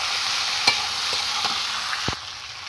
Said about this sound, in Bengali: আগে থেকে ভেজে রাখা সবজিগুলো আমি এর মধ্যে দিয়ে দেবো। দিয়ে ভালো করে নেড়ে চেড়ে আমি নেব।